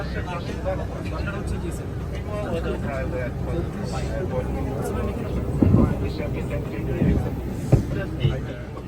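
Airplane cabin noise after boarding hums as a dense, steady engine and air rumble filling the space, with people talking nearby over it.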